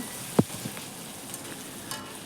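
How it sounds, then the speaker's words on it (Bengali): Spice paste with dried red chilli for doi katla, a Bengali curd fish curry, stirred and frying in a pan: one soft scrape of the spoon over a faint, low hiss of oil, quiet and brief. "দিয়ে কিছুক্ষণ নেড়ে চেড়ে নেব নেড়ে কষিয়ে নেব"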